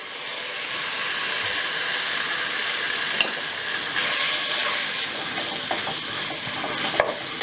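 Long strips of boneless chicken thigh fry in hot oil in a pan, a loud continuous close sizzle with occasional sharp pops and crackles throughout.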